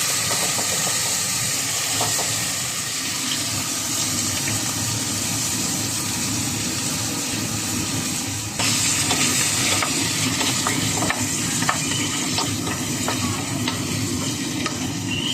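Fresh tomatoes go into a hot frying pan and sizzle steadily, with continuous hissing frying and occasional stirring clinks, a brief louder burst partway through as more food hits the pan.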